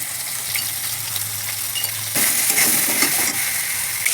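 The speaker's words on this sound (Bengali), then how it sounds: "আলু ভাজলে" A small amount of potato fries in a pan, a continuous close sizzle that grows louder partway through, with light scraping and clinks of utensils.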